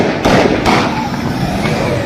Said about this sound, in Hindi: ये देख सकते हैं आप, फायरिंग हो रही है।